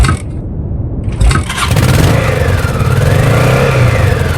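A motorcycle engine starts up after some cranking, then settles into a loud, close, steady running idle with a rising rev.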